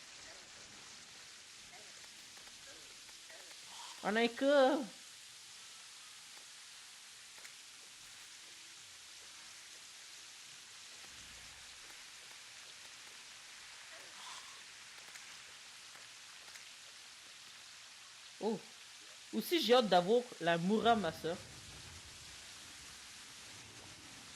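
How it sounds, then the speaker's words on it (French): Rain in the video game Terraria makes a soft, continuous hiss throughout, with someone speaking French in short bursts over it. "Ah, la pluie, c'est fort."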